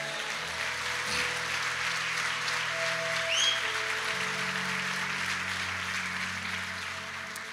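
Church congregation applauding during a sermon, a steady, broad wash of clapping that fills the clip with no pause, moderately loud in a reverberant hall, with a few faint tones and a brief whistle-like sound partway through.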